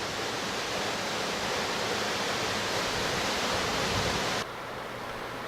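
Desert pour-off waterfall running after overnight rain in a normally dry canyon at Natural Bridges, a steady broad rushing roar of falling water, close and unbroken, dropping slightly in level near the end.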